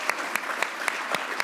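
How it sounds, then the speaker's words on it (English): A round of applause from an advocacy forum audience: steady, dense clapping at an even level throughout, with a few sharper claps standing out. "giving another round of applause for Dr. Dole and Secretary Herrera-Scott, as well as a huge round of applause"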